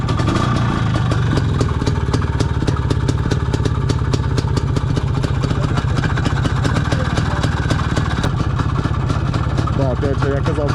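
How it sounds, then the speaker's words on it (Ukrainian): A motorcycle engine idles loudly and close, a fast steady chugging rhythm that runs unbroken from start to finish. "Двигун працює."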